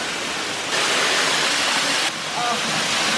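A waterfall rushes in a steady, loud hiss of falling water, its intensity shifting slightly as the position changes, with no voices clearly audible.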